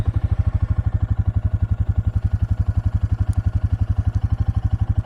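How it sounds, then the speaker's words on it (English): A Royal Enfield Classic 350 single-cylinder motorcycle engine idles just after starting, with a steady, even thumping beat, loud and close, with no talking over it. "So now let's start it up and hear that 350."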